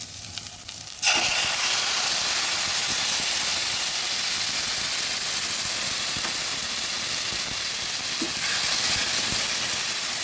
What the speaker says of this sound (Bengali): এবার দিয়ে দিচ্ছি পেস্ট করা